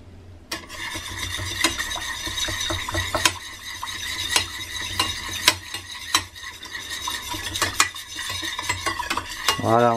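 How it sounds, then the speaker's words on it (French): A utensil stirs sugar into sunomono dressing in a bowl, producing rapid repeated clinks and scraping taps with faint ringing squeaks, close and steady throughout. "on mélange bien, on mélange bien"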